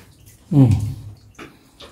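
Water flows downward through a cave passage, rising to a brief gurgling surge and then settling into softer, intermittent splashes and trickles.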